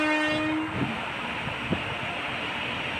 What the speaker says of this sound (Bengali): ট্রেন না সরি মালগাড়িটা।